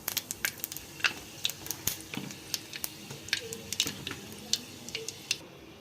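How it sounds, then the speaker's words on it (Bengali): Whole spices temper in hot mustard oil, producing quiet, scattered sharp pops and crackles at an irregular rhythm over a faint, low sizzle, close by. "তো এতে আমি সর্ষের তেল দিয়ে দিয়েছি, তো এর মধ্যে আমি ফোড়ন দিয়ে দিলাম বন্ধুরা"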